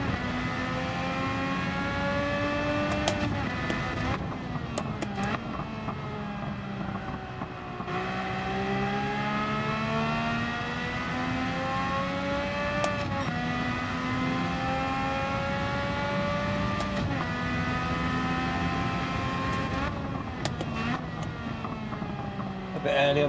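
A race car engine in the Gran Turismo 7 racing game revs up and down through repeated gear shifts and downshifts, rising and falling pitch sweeps that stay loud and close throughout, with someone talking over it.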